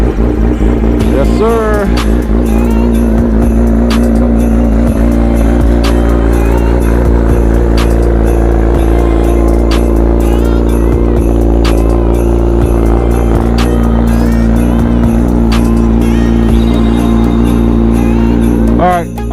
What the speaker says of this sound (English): So let's get that cold start going.